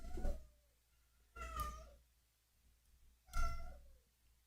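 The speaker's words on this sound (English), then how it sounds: "is feeding the kitties, so I'm sure you hear them in the background" Several domestic cats meow while being fed indoors, three loud, drawn-out calls spaced a second or two apart, close by over a low steady hum.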